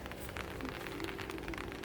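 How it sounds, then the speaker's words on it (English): Steady rain pours outdoors in an even, close wash of hiss with scattered drop spatters, continuous and fairly loud throughout. "It's raining, guys."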